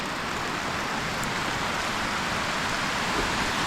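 Steady rain falling in the hills, a dense, even hiss of drops on surfaces that stays constant throughout without change or pause.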